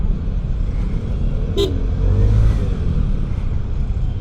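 Road traffic heard while riding a Vespa S125 scooter in a congested zipper lane, with a steady engine and road rumble and one short, sharp car horn toot close by.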